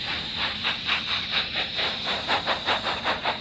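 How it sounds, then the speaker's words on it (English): A steam tank engine puffs rhythmically with hissing steam, a steady chuff pattern of regular bursts over a continuous hiss, moderately close. "the Black Tank Engine puffed backward into the shed"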